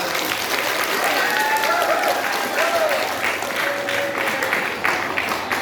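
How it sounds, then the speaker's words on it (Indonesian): Junior high school students clap together at a religious gathering, a loud, dense burst of applause with crowd voices and a few shouts mixed in, continuing steadily throughout. "Oke, tepuk tangan dulu, tepuk tangan."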